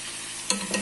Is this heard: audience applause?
no